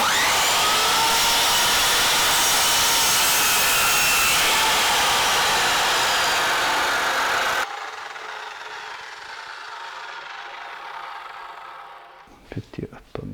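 A saw makes an outer trimming cut on a wall, a loud, steady, high-pitched whine for about seven seconds that stops abruptly, leaving a quieter hum and a few knocks.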